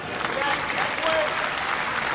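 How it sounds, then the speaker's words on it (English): An arena crowd at a team grappling match between Team Polaris and Team Sambo applauds in a steady, sustained wash of clapping, fairly loud and continuous throughout. "The crowd showing their appreciation for these two top grapplers."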